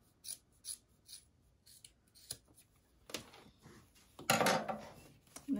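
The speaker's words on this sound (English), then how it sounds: "make sure you trim all your excess thread and trim off your excess fabric" Scissors snip away excess thread and fabric on a handmade fabric coffee sleeve, a run of short, fairly quiet cuts and rustles, ending in a louder burst of cutting and fabric handling.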